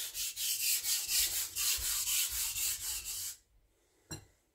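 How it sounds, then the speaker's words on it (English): A knife blade drawn in steady repeated strokes across a sharpening stone while the main bevel is ground up to a burr, about 5 to 6 strokes per side, with a rhythmic scraping that stops and ends in one short scrape. "So now I'm creating the main bevel until a burr at around 5 to 6 per side."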